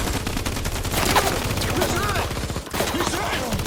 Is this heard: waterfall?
no